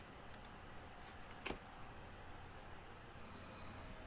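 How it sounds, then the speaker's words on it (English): A computer keyboard's Enter key tapped once, a short sharp click amid a couple of fainter clicks and light background hiss. "I'll hit enter to send that."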